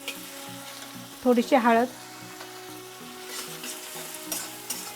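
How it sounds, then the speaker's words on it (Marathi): Chopped tomato with salt sizzles steadily in a pan, sautéed for egg keema as turmeric goes in, a soft continuous frying hiss beneath a brief spoken phrase. "ह्याला मिनिटभर आपण परतून घेऊया, म्हणजे टमाटर आपलं सॉफ्ट होईल."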